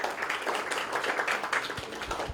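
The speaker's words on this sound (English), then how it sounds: "Can you clap for them?" People in the audience clap for a debate team, a brisk, dense patter of many hands that carries on steadily at moderate loudness, with no one speaking over it.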